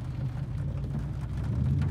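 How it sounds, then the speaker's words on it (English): Heavy rain pours steadily onto a car, a dense, loud wash with a low rumble beneath it and no voices. "And it's pouring rain, guys."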